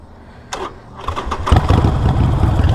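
A Harley-Davidson Iron 1275 motorcycle cranks briefly, then its V-twin engine catches and settles into a loud, close, throbbing idle.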